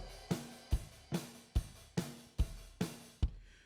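A punchy drum pattern of eight evenly spaced hits, each a thick kick-and-snare thump with a short decay, played without any voices.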